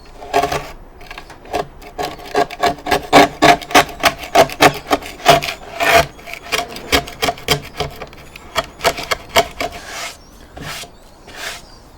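Scraper working material off a surface during a Bush VHF64 restoration, loud close strokes in an irregular series of short scratchy scrapes with small gaps between them, no speech.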